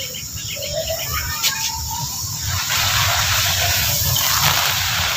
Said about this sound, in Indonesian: Oke, kita akan siram nih kan, kita akan coba siram.